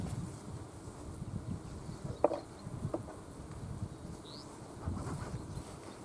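Honey bees hum faintly around an open hive, a low steady drone in quiet outdoor air with a few soft knocks of beekeeping gear and no talk.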